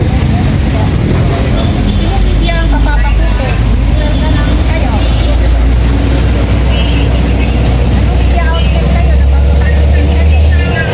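A car arrives amid a crowded scene, with a constant low engine rumble running throughout under loud, busy chatter and raised voices nearby.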